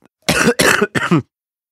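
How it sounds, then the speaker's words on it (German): A young man with a cold coughs three times in quick succession, close and loud, each cough a harsh burst followed by silence. "Ich habe Husten. Es ist manchmal richtig schlimm."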